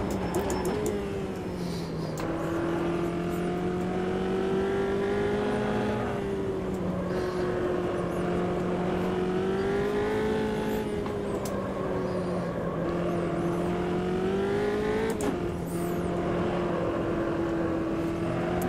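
Formula race car in Automobilista 2 holds a steady, loud engine drone that rises and dips in pitch as it accelerates and brakes through corners.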